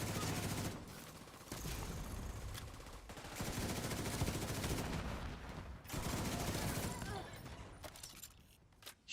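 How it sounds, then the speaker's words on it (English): Rapid bursts of gunfire from a heavy-sounding gun in The Division 2, loud and sustained for most of the stretch with brief gaps, mixed with game effects and dying off near the end. "I also do like the meaty sound of this particular gun"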